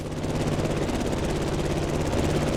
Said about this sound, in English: The plane has taken off